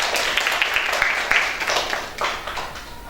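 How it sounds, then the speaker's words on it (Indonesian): Audience applause at a fiction-writing workshop, a dense wash of clapping from a group that stays steady for about three seconds, then gradually thins and fades. "Oke, tepuk tangan kita semuanya."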